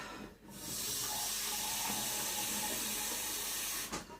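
Cold tap water runs steadily from a kitchen faucet into a jug for making jelly, a close, even hiss of filling water starting and stopping cleanly.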